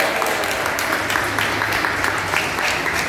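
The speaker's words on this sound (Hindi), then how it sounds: "ताली ज़्यादा मत बजाओ." Students at a school Diwali celebration clap together in a dense, continuous burst of applause filling the room, loud and even, with some crowd murmur underneath.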